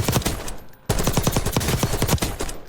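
Assault rifle fire in Call of Duty Warzone comes as two rapid automatic bursts, loud and close, with a brief gap between them and no talk over it.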